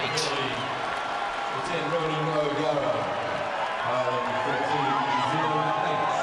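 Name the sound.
Irish rugby supporters cheering in the crowd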